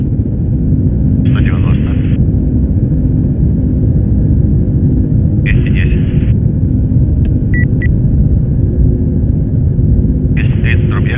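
Engines of an An-124 Ruslan roar loudly and steadily during a night takeoff roll, heard from inside with a constant deep rumble, while crew voices call out speeds over it and short electronic beeps sound.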